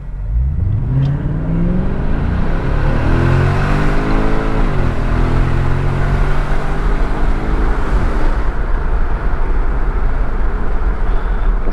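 A 2011 Infiniti M56x pulls hard from a standstill, its engine note climbing loud and close through rising revs with a clear break between gears, then pulling strongly again as the car keeps accelerating.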